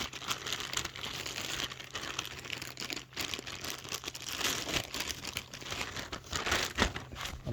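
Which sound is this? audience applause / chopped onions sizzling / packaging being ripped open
packaging being ripped open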